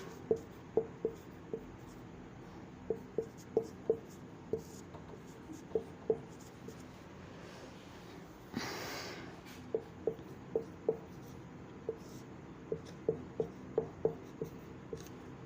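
Notes written by hand in a quiet room, pen strokes tapping and scratching in short, irregular bursts, with a brief rustle of paper partway through.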